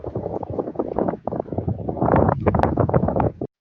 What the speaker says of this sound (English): Sorry for the noise, you guys. It was a rather ugly, rainy, windy day over there